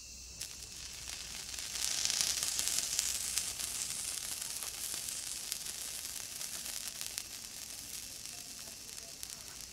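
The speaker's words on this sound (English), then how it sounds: "about ready to lay that out and get our steaks cooking" Steaks sizzling on a grate over a burned-down campfire, a steady broadband hiss and crackle that swells after the first couple of seconds and holds evenly throughout, with no talking.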